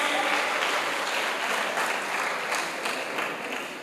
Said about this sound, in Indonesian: Tepuk tangan buat teman kita berdua ini